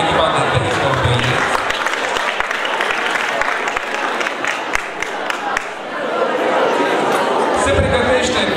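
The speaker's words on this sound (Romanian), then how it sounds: "Aplauze pentru echipa de baseball băieți." A hall audience applauds the boys' baseball team, national school champions, at a municipal education excellence gala: a loud, dense wash of clapping with crowd chatter over it, easing slightly near the end as a voice returns.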